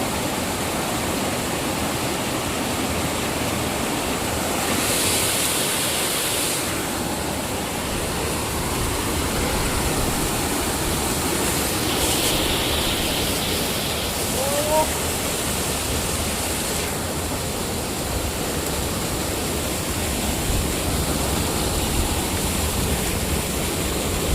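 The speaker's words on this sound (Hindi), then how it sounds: "देख लो पानी कितना तेज जा रहा है दोस्तों।" Fast, rushing mountain water at Sahastradhara in Uttarakhand, a loud, continuous roar filling the whole stretch like a waterfall or torrent, with faint voices now and then beneath it.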